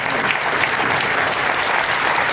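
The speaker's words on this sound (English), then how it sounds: "Give him a big round of applause, ladies and gentlemen." Audience at a business talk gives a round of applause, dense and loud clapping from a sizable crowd filling the whole moment at a steady level without speech.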